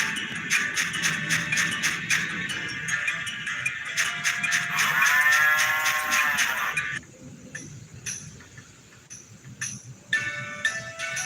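A cow in the video game Harvest Moon: The Tale of Two Towns moos in a long, drawn-out, tonal game-sound call, set among repeated short electronic game effects and chimes throughout.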